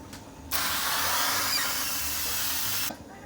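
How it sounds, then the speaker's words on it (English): One continuous hiss of canola oil cooking spray aimed at a pizza pan, about two seconds long, starting and stopping abruptly in a quiet room. "I'm going to spray the pizza pan with canola oil."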